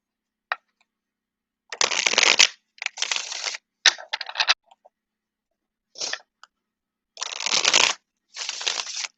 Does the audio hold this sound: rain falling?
no